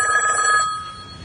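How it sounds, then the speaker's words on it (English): A telephone bell rings loudly in a bright, repeating burst, then cuts off and leaves a quieter tail. "You do not want to answer that phone."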